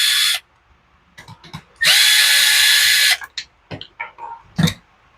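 Bolts on a Poulan Pro chainsaw carburetor being worked loose with a 5/16 tool, heard as a brief loud whirring burst, a longer buzzing run, and scattered close clicks and clanks in between.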